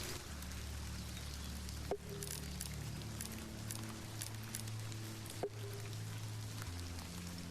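Soft, steady rain falls in the folk horror point-and-click game The Excavation of Hob's Barrow, a faint continuous patter over a low humming musical drone, with two brief sharp clicks.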